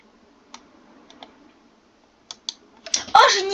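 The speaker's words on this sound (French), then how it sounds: "Clavier." Computer keyboard keys clicked in sparse, separate taps, then a quick burst of faster typing at the end, close and fairly quiet with no talk.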